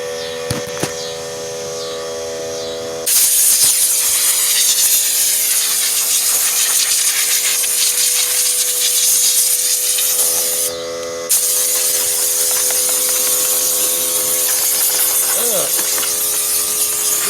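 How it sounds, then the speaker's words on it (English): An air blower clears dust and gunk from the fuel pump area of a 2007 Pontiac Grand Prix, with loud, close hissing blasts of air after a few seconds of background hum and a brief pause in the middle. "So I'm going to take the blower and just blow all this off."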